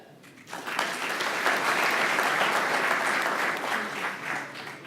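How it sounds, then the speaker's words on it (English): Applause from a forum audience breaks out after a brief quiet moment, swelling quickly into sustained, moderately loud clapping from many hands that holds steady to the end. "A big clap."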